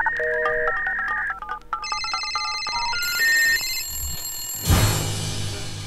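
A telephone rings with a loud, close electronic ringtone: a quick melody of stepped beeps, then sustained higher tones, ending in a sharp burst of noise near the end.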